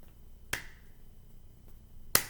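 A single hand clap in a body-percussion pattern, two sharp isolated claps separated by a short quiet gap, crisp and close with nothing else around them.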